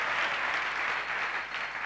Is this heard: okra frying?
no